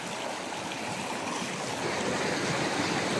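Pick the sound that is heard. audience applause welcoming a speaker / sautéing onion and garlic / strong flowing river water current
strong flowing river water current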